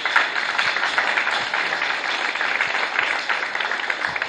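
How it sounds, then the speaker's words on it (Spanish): A lecture audience gives sustained, dense applause after a talk on cholesterol and lipids in liver cancer, holding steady for several seconds with no voices over it. "nuevamente el aplauso de todos ustedes"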